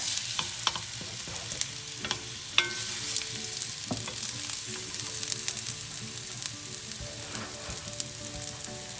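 Dak-galbi ingredients fry in a big cast iron pan with a constant loud sizzle, broken by scraping stir strokes and small pops, with no talking.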